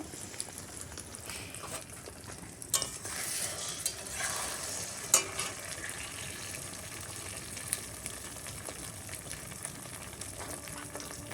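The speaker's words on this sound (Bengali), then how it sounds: "এইভাবে ডিমটা দিয়ে খুন্তি দিয়ে নেড়ে নেড়ে এটাকে ভুজে যাকে বলে এরকম বানাবো" A spatula stirs egg in a hot pan: a soft steady sizzle runs throughout, broken by occasional scraping clicks of the utensil against the metal.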